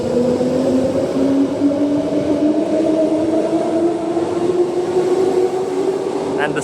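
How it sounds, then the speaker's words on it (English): A train rolls past at Carlisle station on an elevated section, a loud steady rumble with rising tonal hum that holds throughout, close by and continuous, with no talk over it. "And this train gonna ruin our view of that train."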